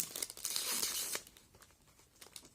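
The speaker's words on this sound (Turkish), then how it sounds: "Dışına böyle bir koruma poşeti yapmışlar arkadaşlar." Plastic protective bag around an unboxed product being crinkled and pulled, a loud close rustle for about a second, then fainter scattered crackles.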